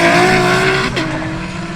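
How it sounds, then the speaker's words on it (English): Nissan R32 GTR race cars, including an RB20-powered GTS4, rev hard on a festival track, a loud close engine note shifting pitch as one car pulls away with faint tire squeal. "Next race up, we got an R32 GTS4 RB20 powered versus a mental GTR."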